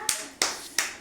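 Young children clapping together in an anganwadi classroom, three sharp group claps spaced evenly about a third of a second apart, close and crisp with short decay.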